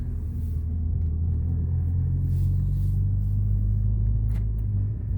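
A Dodge SRT-4 with a rattly engine rumbles at low revs, a deep steady drone with a faint rising pitch as it pulls gently in second gear, close to the car with no talk.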